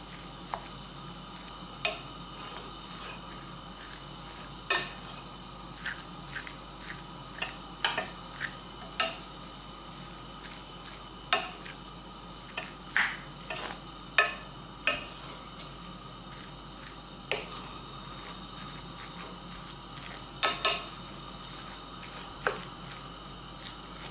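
Taco filling frying in a pan and being stirred, a steady faint sizzle broken by frequent light scraping clicks of the spoon against the pan, irregular and close, with no talking.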